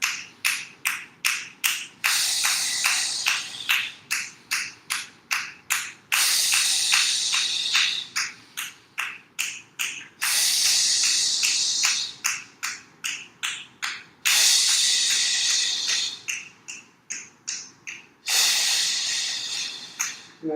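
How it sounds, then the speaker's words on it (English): Rapid rhythmic pumping breaths during a breathing exercise, short sharp exhales repeating in quick bursts, broken by a few longer hissing breaths between rounds, close and fairly soft with no talking. "I'm just going to pump and breathe"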